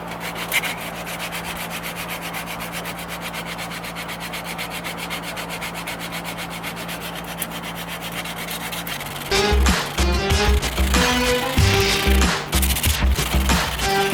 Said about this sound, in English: we've got to get the 80 grit on her to get this job done quicker.